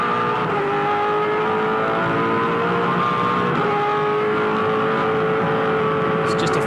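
2007 V8 Supercar on a qualifying lap at Phillip Island, a continuous loud engine drone with shifting pitch as it powers around the circuit, race commentary running beneath.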